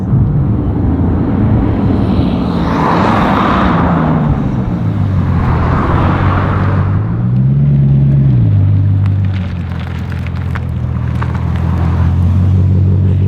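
Bugatti Chiron Sport under way, a loud, steady engine drone heard from inside the car, its pitch sliding up and down with a couple of airy turbo surges, and no one speaking.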